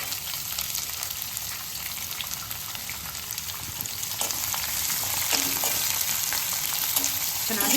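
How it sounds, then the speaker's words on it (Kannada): Chopped onions and curry leaves frying in hot oil give a dense, steady crackling sizzle up close, growing slightly louder toward the end, with a few faint stirring scrapes and no voices. "ಚೆನ್ನಾಗಿ ಫ್ರೈ ಮಾಡ್ಕೊಳ್ಳೋಣ."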